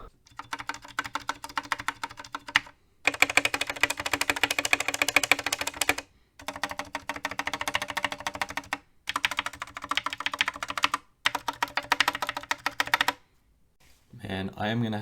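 Mechanical keyboard with green linear switches typed on in several fast bursts of clacking keystrokes separated by short pauses, close and fairly loud, ending with a brief different rustle.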